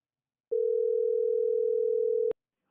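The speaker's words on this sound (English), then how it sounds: "Let's try a phone call." A steady, pure telephone dial tone plays alone on a phone call, holding one unbroken pitch for about two seconds before cutting off with a click.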